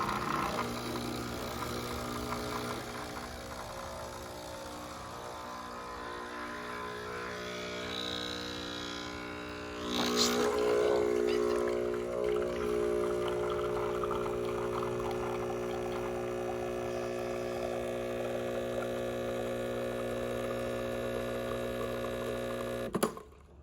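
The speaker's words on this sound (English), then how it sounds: "It should take approximately 20 to 30 seconds to brew, and it should kind of hit in this espresso range, the gray spot here on the machine." Espresso machine brewing a double shot, a steady electric pump hum with a faint trickle throughout and a brief louder burst partway through, close and alone with no talk.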